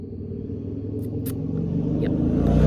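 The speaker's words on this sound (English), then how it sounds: "Really, motorcycle now of all times?" A motorcycle engine rumbles low and steady as it rides through a residential neighborhood at night, growing gradually louder as it approaches, with a few faint clicks on top.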